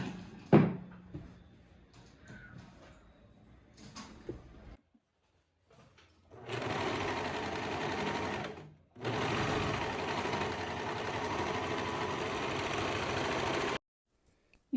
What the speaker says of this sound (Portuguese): E vou passar no overlock.